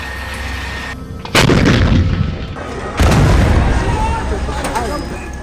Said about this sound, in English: we hear these loud explosions